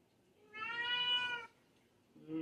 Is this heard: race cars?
no